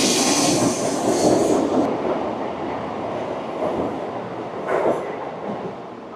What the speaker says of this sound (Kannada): ಇಲ್ಲಿ ನಮ್ಮ ಈಗ ಬುಲೆಟ್ ಟ್ರೈನು ಸೂಪರಾಗಿ ಹೋಗ್ತದೆ